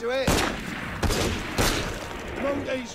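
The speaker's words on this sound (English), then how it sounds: "I just hear so many gunshots." Several loud gunshots boom at irregular intervals in a game, with a voice talking briefly between the bursts.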